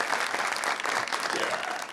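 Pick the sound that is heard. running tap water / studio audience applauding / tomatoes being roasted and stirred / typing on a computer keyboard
studio audience applauding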